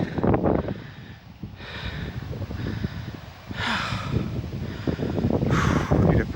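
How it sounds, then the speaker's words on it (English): Strong gusts of wind buffet the microphone outdoors on a steep hillside under dark clouds, rumbling in loud uneven surges, with breathing and snorting sounds and some nearby voices mixed in. "it's very windy"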